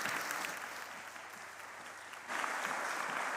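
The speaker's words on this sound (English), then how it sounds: "Applause for Anna." A live audience applauds at a science communication competition final, steady dense clapping throughout that swells louder near the end, with no talk over it.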